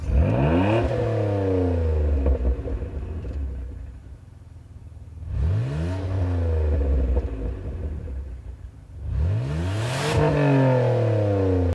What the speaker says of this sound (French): on a un système d'échappement à double sonorité